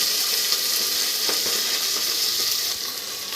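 Chopped onions sizzle steadily in hot oil in a pan while chicken kulambu is cooked, a constant close hiss with a few soft stirring scrapes and no talking.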